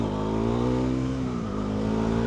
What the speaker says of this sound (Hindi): साहिल की एक आखिरी छोटी सी व्हीली आज के लिए यार